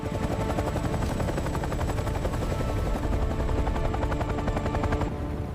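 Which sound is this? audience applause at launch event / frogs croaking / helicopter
helicopter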